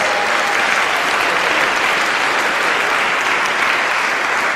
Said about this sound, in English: And let's give her a big round of applause